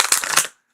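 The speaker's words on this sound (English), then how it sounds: "I've been told the sound of me shuffling cards is very soothing." A deck of tarot cards gives a quick, close riffle of crisp flicking and rustling that stops abruptly after less than a second. No one speaks.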